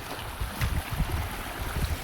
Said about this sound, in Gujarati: જો આ બેડમાંથી પાણી જાય છે